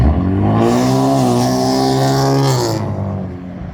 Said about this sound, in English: they'll use cars with loud mufflers